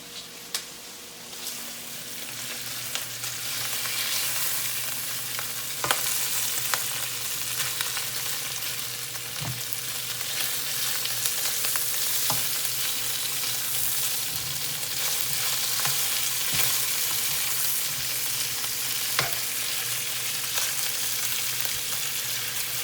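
Bacon sizzling in a pan, a continuous crackling fry with scattered pops and spatters, steady and close for the whole stretch, no talking.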